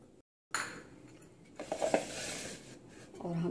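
A spoon clinks and scrapes against a bowl while chaat masala and Maggi masala spice powders are mixed together, giving short, close metallic taps and stirring scrapes with no talk.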